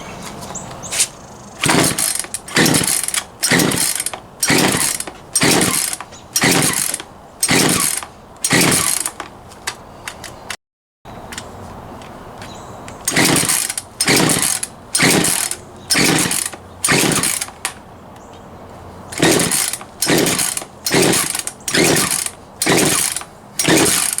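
A rebuilt Poulan 42cc chainsaw with low power under load is pull-started on full choke. The starter cord rasps and ratchets in about twenty rhythmic pulls with a brief pause midway, and the engine never catches.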